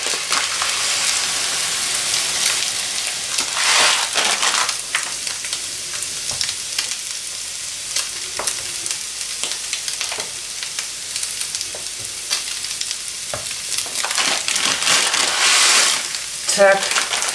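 Red lentils poured into a pot of soup with potatoes and stirred, giving a steady close sizzling, scraping and clattering texture that swells and fades with the stirring, with no talk over it.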